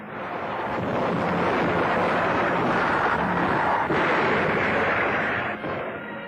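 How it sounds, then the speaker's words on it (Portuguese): Naval cannons fire at night aboard a 1942 wartime ship, a dense, continuous roar of heavy gunfire and booming blasts that fills the whole stretch with little pause, loud and rumbling like an old newsreel soundtrack. "À noite, os canhões proporcionam um espetáculo majestoso."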